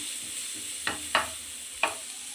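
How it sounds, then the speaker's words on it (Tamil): Chopped garlic fries in a pan under a faint, quiet sizzle, broken by three sharp stirring clinks or scrapes of a utensil against the pan. "பூண்டு வந்து கோல்டன் ப்ரௌனில் வதக்கணும்."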